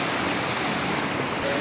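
A waterfall on the Azores roars in a constant, loud, broadband wash of falling water, close and unbroken, with no voices heard.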